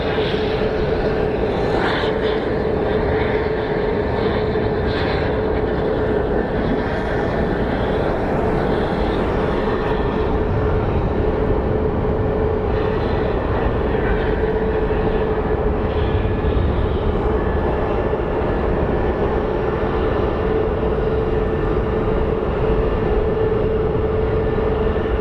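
A jet airliner's engine at Phoenix Sky Harbor International Airport roars steadily and loudly for the whole stretch, a continuous broadband rumble with a faint tonal whine riding on top and no voices.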